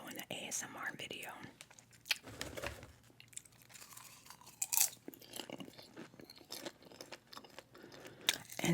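Popcorn is chewed close to the mic in soft, irregular crunches and bites, mixed with quiet whispered speech throughout.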